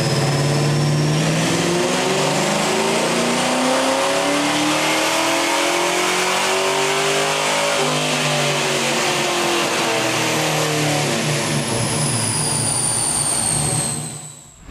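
A 1988 Ford Mustang Fox Body with a 393ci Windsor stroker V8 on a chassis dyno, revving hard and climbing steadily in pitch through a long pull with whining rollers before cutting off abruptly at the end.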